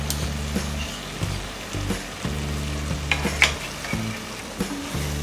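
Tomato sauce and butter for a homemade pizza sauce sizzle in a hot pan, with a continuous frying hiss and occasional spoon taps and stirring scrapes, nearby and unaccompanied by talk.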